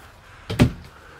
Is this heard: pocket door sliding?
yes